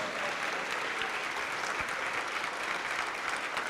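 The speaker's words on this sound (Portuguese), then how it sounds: "vamos aplaudir mais ao Senhor Jesus" A church congregation applauding, a dense, steady wash of clapping from many hands filling the room, loud and continuous without any voices over it.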